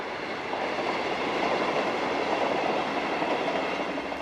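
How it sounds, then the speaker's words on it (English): A train runs along the railway causeway to Venice, Italy, a steady close rumble of wheels and carriages that stays loud and even from start to finish. "With trains passing along the causeway at 3 to 4 minute intervals for much of the day"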